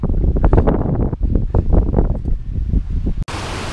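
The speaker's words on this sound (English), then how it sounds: "Here we're at the top of the falls" Broadband rushing water from the waterfall at Cadair Berwyn, heard from the top of the falls, loud and steady with gusty wind buffeting the microphone, ending in a sharp knock and a brighter hiss.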